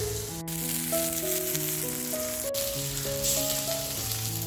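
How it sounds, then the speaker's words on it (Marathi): Bombay duck (bombil) fish frying crispy in a pan, a steady sizzle held under a melodic background music bed, with two sharp clicks breaking through. "बोंबील असे छान क्रिस्पी फ्राय झालेले आहेत."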